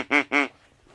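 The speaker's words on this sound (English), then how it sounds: "That's a duck call." Two quick, nasal duck quacks sound close and clear in succession, followed by near silence.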